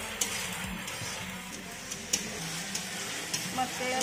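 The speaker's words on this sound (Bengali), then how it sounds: "মশলাটা একটু ভাজা ভাজা হয়ে গেছে।" Spice paste frying in hot oil for chicken kosha, stirred in the pan: a steady, close, dense sizzle and crackle with a few sharp clicks from the utensil, and no talking.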